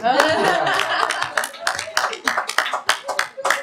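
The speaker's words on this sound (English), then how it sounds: "Well, everybody applaud Stephen Fish." A small audience gives brief applause, starting as a busy patter and quickly breaking into sparse individual claps, with a bit of chuckling and voices mixed in.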